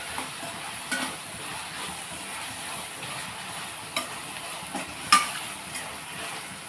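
Onion frying in a pan for a bottle gourd curry gives a soft, steady sizzle. A spoon scrapes and clinks against the pan now and then, with no talking.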